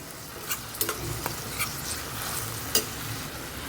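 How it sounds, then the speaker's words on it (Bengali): Grated tomato and onion sauté in a pan as the base for a rohu fish curry. A quiet, steady sizzle runs throughout, and a few sharp stirring taps and scrapes sound up close. "টমেটোটা ভালো করে কষিয়ে নেব।"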